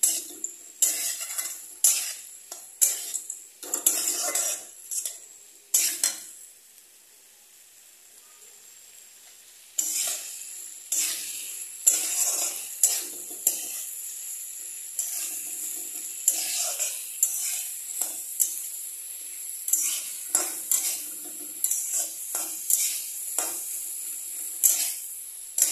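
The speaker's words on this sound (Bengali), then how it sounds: "এখানে লাস্টে হলুদ, লঙ্কার গুঁড়া আর ধনের গুঁড়াটা আমি দিয়ে এখন এটাকে আমি বেশ কিছুক্ষণ কষাবো" Potato curry with turmeric, chili and coriander powder is sautéed in a pan, heard as repeated clattering spatula scrapes and knocks over a light sizzle, with one quieter pause partway through.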